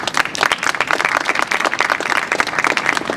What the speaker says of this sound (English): Both of those other candidates deserve a little round of applause from us here today